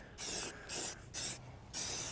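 A spray can of high-heat paint hisses onto an old grill in four short, close bursts separated by brief pauses, crisp and fairly quiet, with no voices.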